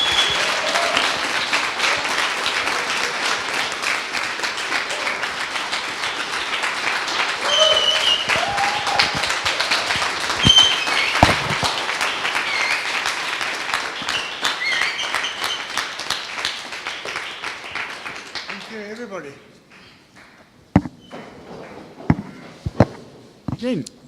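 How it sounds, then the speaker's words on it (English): A seated audience at a startup networking event in Pretoria gives a long, dense round of applause that lasts about twenty seconds, then thins out into a few scattered claps. "a round of applause?"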